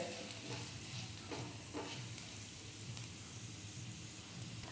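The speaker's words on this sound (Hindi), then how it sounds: "जस्ट इसे भी हम हल्का सा 10 सेकेंड के लिए सौते करेंगे" Quiet, steady sizzling of ginger and garlic sautéing in oil, with faint stirring scrapes and crackles scattered throughout.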